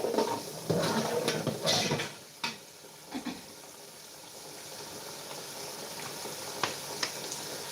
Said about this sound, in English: So right now I am trying to fry.